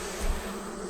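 Honeybees buzz around an open hive in a dense, steady drone, close and continuous through a brief moment.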